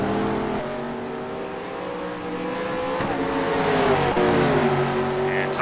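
V8 Supercars racing engines in the Race2Play simulator at Tasmania, several cars battling close together with a steady loud engine drone that rises and shifts pitch through gear changes, alone without talk.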